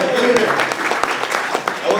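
An audience at a dinner event claps in a loose, scattered burst, mixed with a voice.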